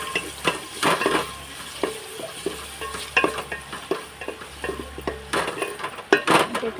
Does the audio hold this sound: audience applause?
no